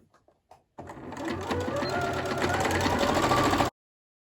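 A sewing machine runs stitching shirt straps for a shirred top, starting after a few faint clicks and then whirring in a fast, even, close-up chatter before stopping abruptly.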